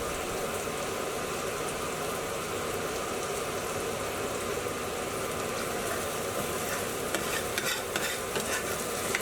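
Beef dopiaza ingredients are stirred and fried in a hot pan, a steady close sizzle with scraping stir sounds running throughout, no voices.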